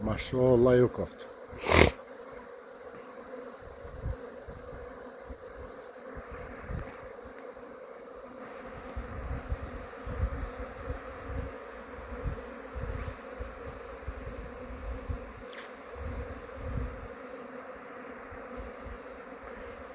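Honeybees buzz at their hive after two days of rain, a steady, dense drone of many insects close by that persists throughout, with a person speaking over it at times.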